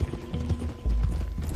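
Close hoofbeats of a horse clip-clopping along a rocky track in the Red Dead Redemption 2 video game, a quick run of irregular thuds over low rumbling ambience.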